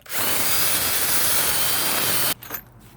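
A power drill fitted with a masonry bit bores into stucco during a wood planter build, a loud, steady grinding whine for about two seconds that cuts off abruptly, followed by brief faint handling noise.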